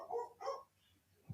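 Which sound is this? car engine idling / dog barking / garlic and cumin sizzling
dog barking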